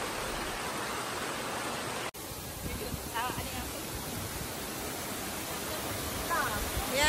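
The Sebarau waterfall at Kampung Bidak Padawan, a loud, constant broadband roar of falling water filling the scene, with a brief dropout partway through.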